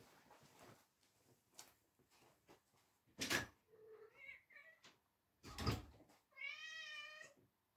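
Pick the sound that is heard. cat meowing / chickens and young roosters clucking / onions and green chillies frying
cat meowing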